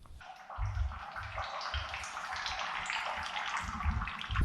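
A dropped camera sinks underwater while water sloshes around it, producing a muffled, continuous churning wash with soft low thumps pulsing through.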